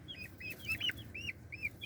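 Soft, high-pitched chirping calls repeat in quick succession, close by over a low background hum; more like chicks peeping than a hen's cluck.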